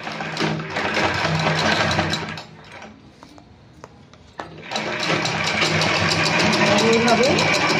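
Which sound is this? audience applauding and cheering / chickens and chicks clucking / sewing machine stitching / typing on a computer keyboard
sewing machine stitching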